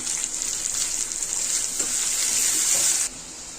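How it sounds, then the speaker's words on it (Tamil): Steady rushing pour of tamarind water into a pan for about three seconds, then it stops abruptly, leaving a quieter hiss. "இந்த புளியை கரைச்சி ஊற்றிக்கலாம்"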